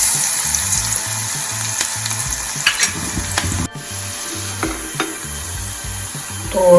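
Chopped onion sautéing in a pan for a leftover-roti buttermilk curry: a steady sizzle of frying under repeated scraping stirs, close and busy, with no talking.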